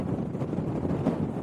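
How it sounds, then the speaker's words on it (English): Wind buffeting a microphone on Loughrigg Fell in the Lake District in a low, steady rumble with gusty fluctuations, moderately loud and without any voices. "it's windy"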